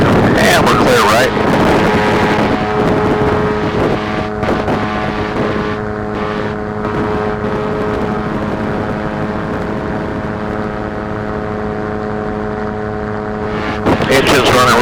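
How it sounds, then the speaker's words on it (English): A GT 500 tow plane's engine runs steadily in flight, giving a loud, continuous droning hum with rough wind noise over it and no break for the whole stretch. "Engine's running real smooth."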